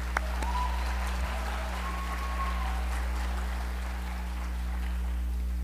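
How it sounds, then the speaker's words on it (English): Audience applause at the 2014 Marion County Student Media Festival for the event's sponsors, sustained moderate clapping over a steady low hum, with a brief faint tone and no speech. "You can applaud them."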